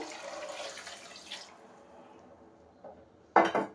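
Water is poured from a glass into a cooking pot for prawn biryani. A brief splashing pour comes first, followed by quiet and then a sharp clatter of the vessel; no speech.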